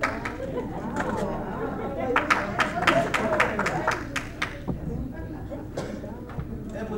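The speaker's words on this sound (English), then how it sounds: "I want you guys to applaud yourselves for identifying yourselves and being willing to" A leadership summit audience claps, a burst of applause that swells in the middle and tapers off, mixed with crowd chatter and talk.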